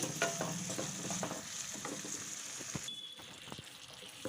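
Tamarind, turmeric and ginger-garlic paste fry in a pan for mint chutney, giving a steady close sizzle with scattered stirring scrapes and clicks; no one speaks.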